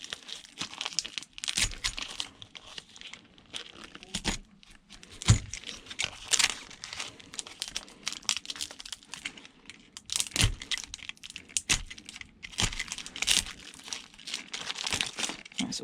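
Plastic wrapping and stubborn tape being peeled and torn away from a package of copper, with irregular crinkling, crackling bursts and sharp rips close up, no talking.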